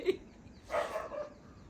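A dog gives a couple of short, faint barks from some distance outdoors, one quick yap followed by a slightly longer bark.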